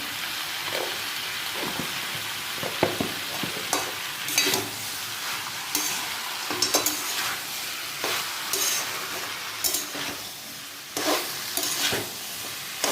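A veg and paneer mix sautéing in a pan, with a steady close sizzle broken by repeated scrapes and clatters of the stirring spoon at irregular intervals and no talk.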